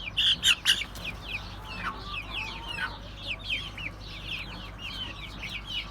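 Chickens cluck and chirp close by in a small backyard flock that includes a single Plymouth Rock hen, with a louder burst of calls at the start and steady cackling that carries on to the end.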